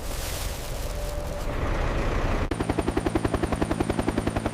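A rescue helicopter flies over a flood-hit area in Nepal, its rotor thudding in a steady, loud rhythmic chop after a stretch of broad rushing noise.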